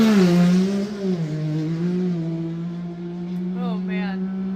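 UTV race car at speed on a desert race course at the Wild West 100, Columbus, Montana, engine note held high then dropping as it passes, fading into distance with a brief gear-shift rise near the end.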